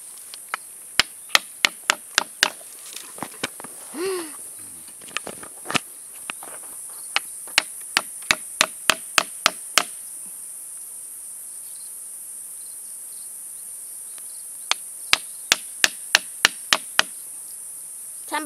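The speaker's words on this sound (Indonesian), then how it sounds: "Kita lubangi dulu. Kita menggunakan pahat nih di sini." Chisel strikes cut a hole into the base of an albizia (sengon) tree trunk, a series of sharp, clustered knocks in irregular bursts, close and fairly loud over a steady high insect drone, with a pause midway before another run of blows.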